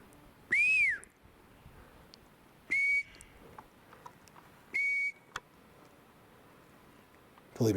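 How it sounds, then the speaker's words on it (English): A person whistles three separate notes, the first sliding up and down, the others short steady tones, with quiet gaps between. "Believe me, I know how annoying the whistle sounds."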